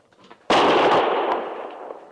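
A single sharp rifle shot in an old radio drama cracks out close and loud after a quiet moment, then rings and decays over about a second and a half.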